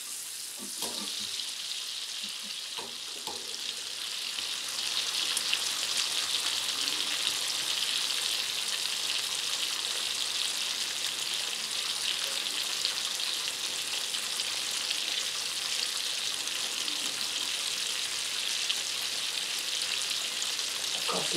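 Bacon sizzles and crackles steadily in a frying pan, a dense, even hiss that swells slightly after the first few seconds and continues unbroken, with no talking.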